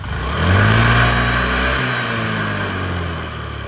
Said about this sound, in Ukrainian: Гарно двигунчик.